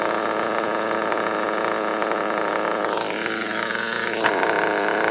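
A 15-year-old car engine idling steadily and loudly up close, a constant mechanical drone with a brief tonal sweep near the end.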